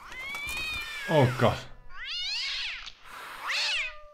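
Cats meowing in the TKKG video game, several drawn-out, pitch-bending meows in a row, loud and close, with a man briefly exclaiming over the first one.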